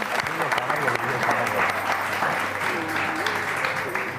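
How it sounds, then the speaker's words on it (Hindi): Audience applause fills a television show set, steady and full for about four seconds, with a musical tone and some voices faintly underneath. "चले जी, बहुत सारी तालियां भाई के लिए।"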